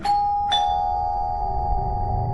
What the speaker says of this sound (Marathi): तितक्यात दारावरची बेल वाजली